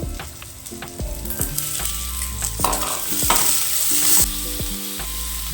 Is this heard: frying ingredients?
yes